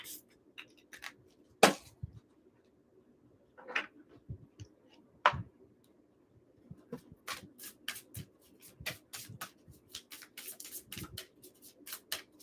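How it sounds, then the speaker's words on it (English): Tarot cards being shuffled close up in a quiet room, with intermittent bursts of riffling and tapping separated by short pauses. "Let me get a good shuffle in for Pisces."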